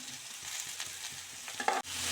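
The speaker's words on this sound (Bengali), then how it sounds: "সবজিগুলো প্রায় ভাজা হয়ে গেছে, এবার ক্যাপসিকামগুলো দিয়ে দেবো" Vegetables with capsicum being stir-fried in a pan for restaurant-style chicken chowmein: a steady, close sizzle broken by stirring scrapes, with a sharp clatter near the end and no talking.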